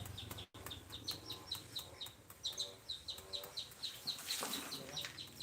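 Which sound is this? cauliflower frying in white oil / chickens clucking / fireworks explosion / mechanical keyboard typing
chickens clucking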